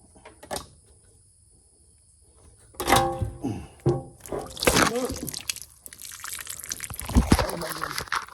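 Coolant water drips and thunks from a John Deere 4440 tractor engine during an in-frame rebuild, with scattered irregular drops and knocks, some louder than others, amid faint background noise.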